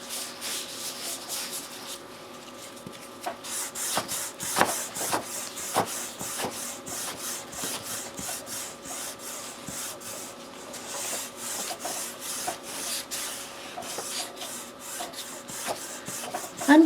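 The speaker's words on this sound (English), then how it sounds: "I'm giving this a good rub." Paper is rubbed by hand onto a monoprinting plate, a close, steady scratchy rubbing with rhythmic strokes and brief sharper scrapes throughout, with no voices.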